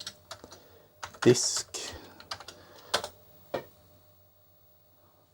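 Keys clatter on an Amstrad computer keyboard in short, uneven bursts of close, sharp clicks with pauses between them, while a voice speaks briefly.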